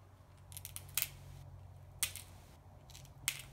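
A small stone flake is trimmed by knapping, giving a few sharp, quiet clicks and scrapes spaced about a second apart over a low background hum.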